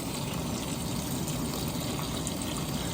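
Water drains from an oil-fired heater during a low water cutoff test, a steady, even rush of gushing water with no break and no talk.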